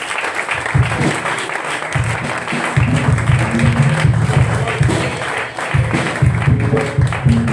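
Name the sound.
congregation applause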